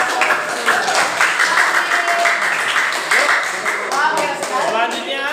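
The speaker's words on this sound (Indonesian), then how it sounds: "Oke, tepuk tangan buat" Students in a ninth-grade physics classroom applaud, steady dense clapping lasting several seconds, mixed with chatter and voices over it.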